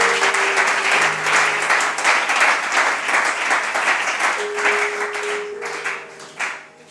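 A church congregation breaks into sustained applause and clapping in praise of the Lord, a dense crowd sound holding steady for several seconds before thinning toward the end.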